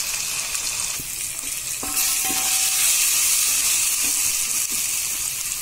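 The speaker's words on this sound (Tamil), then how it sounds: "இந்த தக்காளி வதங்கி வரட்டும்." Tomatoes sauté in a hot pan with a steady sizzle and hiss, briefly stirred, close and fairly loud throughout with no talking.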